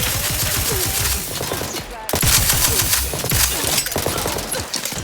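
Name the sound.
gunfire in the video game Outer Worlds 2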